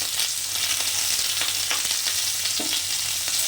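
Poppy seed paste (posto) with a little salt and turmeric frying in a pan, a steady close sizzle with faint scraping stirs, alone without talk.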